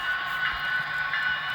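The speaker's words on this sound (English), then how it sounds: "The train is about to go on the block, like right there." A model railroad train runs along layout track past a signal block, giving off a continuous faint whirring hum with light rolling rattle, quiet and steady throughout.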